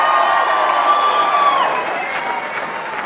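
An audience cheers and applauds loudly in a sustained burst with shouts and whoops, tapering off slightly toward the end.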